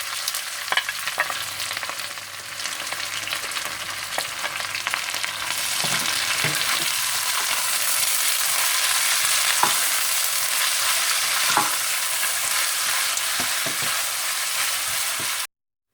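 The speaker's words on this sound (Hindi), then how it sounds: "देसी घी गरम करने के बाद आप इसमें प्याज डाल दें" Onions sizzle in hot desi ghee in a pan for a Sindhi biryani, a steady broadband fry that grows louder and denser after the first few seconds, with occasional stirring clicks and scrapes throughout.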